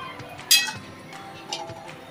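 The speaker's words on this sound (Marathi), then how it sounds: "आता आपण याला झाकण मारूया" A metal lid clinks onto a cooking pot of chole with one bright, sharp clink, followed by a softer tap and light rattling close by.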